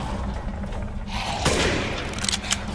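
Rifle gunfire in the video game Resident Evil Village, a few sharp cracks and bursts standing out against a rumbling game backdrop, fairly close and loud.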